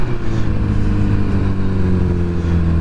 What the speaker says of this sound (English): This bike handles like a dream. It accelerates